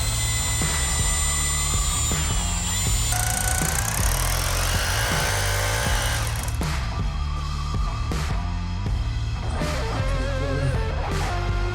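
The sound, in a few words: drill boring a hole into floor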